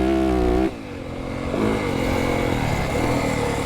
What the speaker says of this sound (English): It has that nice sound when you crank the throttle open.